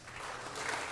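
Applause at a Los Angeles city council meeting, a brief burst of steady clapping from a room of people that swells slightly, heard at a moderate distance with no voices.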